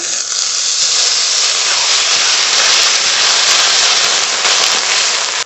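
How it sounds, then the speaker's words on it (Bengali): Water hitting fried okra (bhindi) in a hot pan gives a loud, steady, close hiss of sizzling steam that holds evenly throughout, with no voices. "ভেন্ডি খুব ভালো করে ভেজে নিয়েছি এবার জল দিয়ে দেবো"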